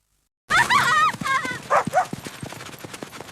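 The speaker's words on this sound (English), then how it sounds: "Dog is chasing me." A dog gives a burst of excited barks and yelps, followed by a few scattered softer yips.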